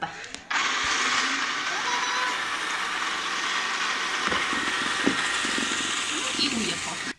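A robot vacuum cleaner runs in a room with a steady, close whirring hum that starts after a moment and continues unbroken, while someone talks over it.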